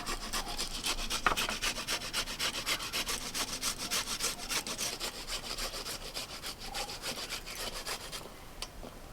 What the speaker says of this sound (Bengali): ওই গাজরটাকে একইভাবে আপনি এরকম করে ঘষে ফেলুন